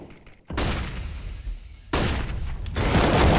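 Gunfire in a CS:GO match at a pro esports event, two loud sustained bursts of shots and impacts, the first cutting in sharply then dropping out and the second swelling to a dense barrage.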